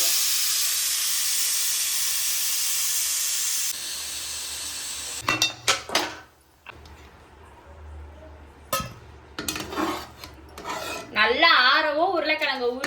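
Loud, steady steam hiss from a pressure cooker for several seconds that cuts off, followed by clinks and clatter of metal pots and utensils.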